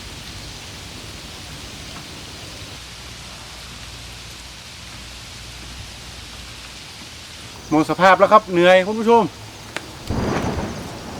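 Steady rain falls around a forest cabin, a soft constant hiss throughout, until someone speaks briefly near the end.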